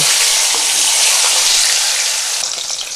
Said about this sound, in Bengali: কলাটা ভেজে নেব।